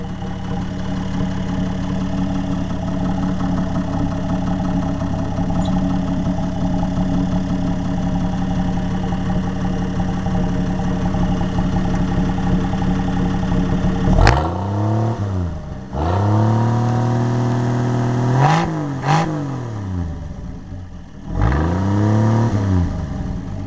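An under tiller engine runs steadily at idle for a while, then is revved hard several times in loud rising and falling surges close by, with no talking.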